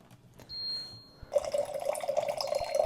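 Cold filtered water pouring from a countertop water filter dispenser into a glass, a quiet beep first, then a steady close trickle and splash that continues to the end.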